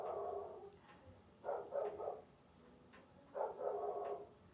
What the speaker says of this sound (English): I'm hearing a dog barking outside the window all of a sudden